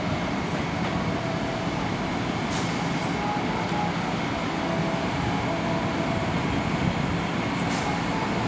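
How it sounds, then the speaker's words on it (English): An electric-line train rolling past a train station at close range, a steady rumbling roar of wheels on rails with faint metallic squeals. "That train right there is an electric version, electric line."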